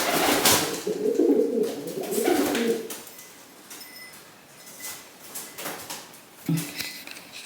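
Rescued pet pigeon named Wabi cooing close by in low, throaty bursts, with soft fluttering and rustling of wing flaps between the calls.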